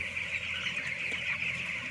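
Chickens inside a poultry farm on a foggy morning, with a steady flock murmur and faint clucking under a constant fan hum.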